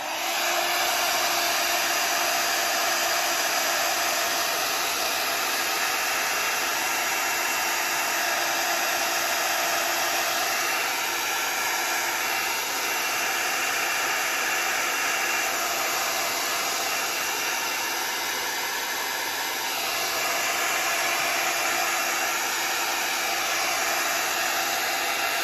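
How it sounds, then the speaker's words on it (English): A heat gun blows steadily and loudly for the whole stretch, drying wet paint and paper on a mixed media journal page, a continuous airy roar with a slight shift in pitch partway through. "Okay, heat gun, you guys."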